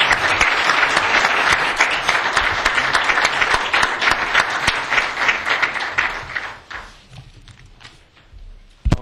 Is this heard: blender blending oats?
no